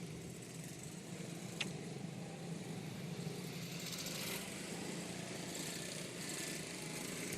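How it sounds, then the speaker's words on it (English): A race car engine warming up at a racing event makes a faint, steady, distant droning rumble that holds throughout, with no talking. "Which car is making that noise?"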